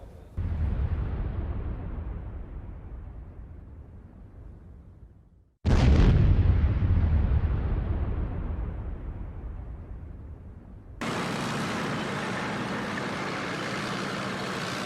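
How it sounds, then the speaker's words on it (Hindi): Explosion as a Russian tank destroys a Ukrainian T-80 tank in a war zone, a loud low blast rolling off and decaying, followed by a second sharp, heavy detonation that fades before a steady broadband roar takes over. "यह देखिए किस तरीके से रशियन टैंक ने यूक्रेन के T-80 को उड़ाया"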